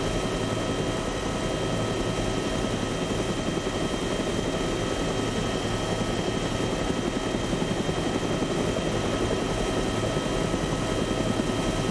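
Helicopter in Arma during a large PvP battle, a constant loud rotor drone with steady blade chop and a whining engine hum, sustained without pause and without speech.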